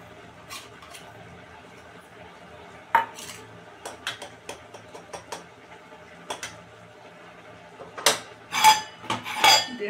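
Carrot halwa with ghee being stirred in a pan, a spoon scraping and clinking against the metal in irregular close taps and scrapes, with a cluster of louder knocks near the end.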